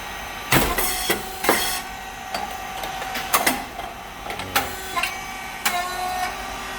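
A SYP4009 rice cake machine with coated moulds runs, giving sharp repeated clacks and thumps at uneven intervals over a steady mechanical hum, loud and close with no talk.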